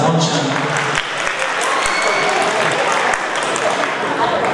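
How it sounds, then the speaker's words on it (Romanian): An audience at a televised Dragobete celebration event in Petrila applauds, producing loud, continuous clapping with a few sharp thumps, and a voice may come through underneath. "Aplauze pe la nivelul de Elisa Moncea."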